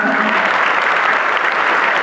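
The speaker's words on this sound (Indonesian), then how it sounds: "Tepuk tangan untuk kita semua." A brief burst of full audience applause at a public speaking session in an Islamic boarding school hall in Tegal, dense and even throughout.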